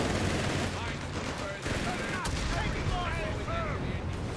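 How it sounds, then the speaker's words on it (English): Gunfire in Company of Heroes 3, a Wehrmacht versus US Forces match, with dense, continuous rattling shots and battle noise throughout, mixed with faint game voice callouts. "Shots fired."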